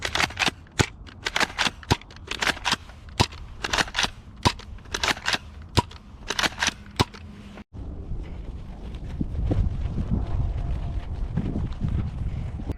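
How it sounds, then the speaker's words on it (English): Nerf Mega Cycloneshock blaster fires six darts outdoors in a steady series of sharp, loud pops, each with a short mechanical snap, followed by wind rumble across the microphone. "Now let's fire all 6 rounds downrange."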